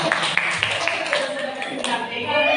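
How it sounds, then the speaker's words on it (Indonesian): Short burst of audience applause in a classroom or workshop setting, quick scattered claps mixed with voices and chatter throughout. "Aplaus untuk Tuhan."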